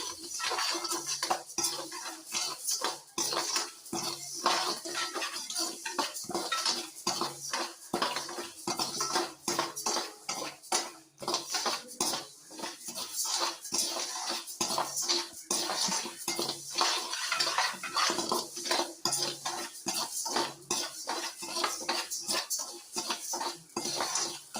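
Raw rice dry-roasted in a pan and stirred with a utensil, heard up close as a steady run of scraping, rattling strokes that continue throughout with no talking.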